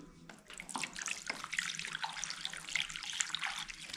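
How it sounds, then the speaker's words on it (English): Distilled water pours steadily into the cooling system of a 1976 Pontiac Firebird with a 350 V8, a continuous close splashing gurgle lasting several seconds with no talking. "put some distilled water in now."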